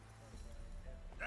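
Horse hooves clip-clopping in The Witcher 3: Wild Hunt, a short, soft burst of steady hoofbeats on the ground under game voices and ambient sound.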